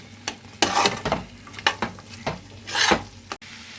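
A spoon stirs green peas and capsicum in a sizzling kadai, with repeated scraping strokes over a steady frying hiss, close and loud, no talk.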